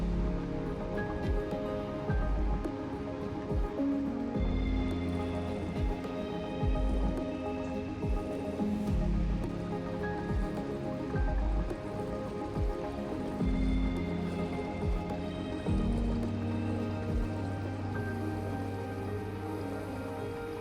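A portable reverse osmosis water filter runs steadily outdoors, with a continuous hum and water trickling and dripping throughout, no talking.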